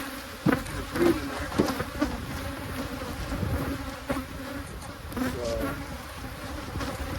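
Honey bees buzz in a dense, continuous drone around an open, abandoned hive box during an inspection, close and steady, with occasional clunks of handling and brief talk.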